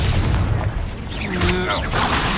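A Confringo explosive spell blast in Hogwarts Legacy booms heavily amid continuous loud combat noise and whooshing effects, with a voice briefly heard over the din.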